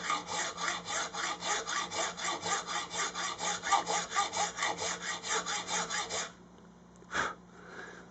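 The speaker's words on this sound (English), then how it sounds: "So I'm going to take this hacksaw and just use my thumb and forefinger, use it as a guide to guide the blade right to the middle of the nut." A hacksaw cuts into the nut of a Les Paul guitar with about twenty quick, regular back-and-forth rasping strokes up close, then stops, followed by a single soft knock.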